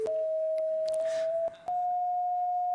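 A sustained electronic tone from a head-mounted eye sensor that turns the green of grass into sound. The pitch steps up slightly partway through and the tone holds on, clear and alone.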